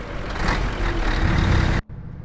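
A heavy truck in Euro Truck Simulator 2 rumbles as it pulls away, a loud, steady engine drone with a hiss of air brakes, then cuts off abruptly near the end.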